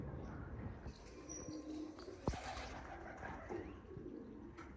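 Soft pigeon cooing in a noisy outdoor setting, low murmuring calls with a single sharp knock partway through.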